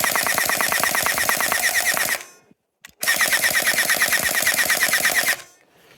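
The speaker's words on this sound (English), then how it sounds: "The gun sounds really cool" Gel Blaster Surge gel blaster firing in multi-fire mode, loud rapid bursts of evenly spaced shots in two long strings separated by a brief pause and a short blip, close to the listener.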